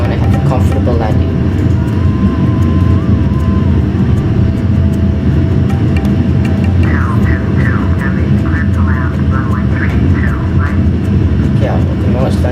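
Airbus A340 airliner on landing approach in Flight Simulator X, a steady loud engine drone with a cockpit voice talking over it and brief tonal chimes near the end.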